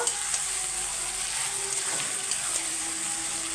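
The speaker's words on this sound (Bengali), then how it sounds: "এইটাকে দিয়ে আমি আরও 1 মিনিট নেড়ে চেড়ে নেব।" Green chilli chicken with ground ginger, chilli and black pepper paste frying in a pan, a steady close hiss of sizzling oil with soft scraping strokes as the meat is stirred, no voices.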